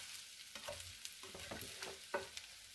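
Bacon, onions and potatoes frying together in bacon fat for Finnish pyttipannu, a quiet steady sizzle with several distinct spatula scrapes and clacks as the pan is stirred.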